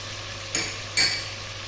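Onion and garlic frying in a pot give a soft, steady sizzle, broken by two brief clinks or scrapes of a utensil stirring, close by with no voices.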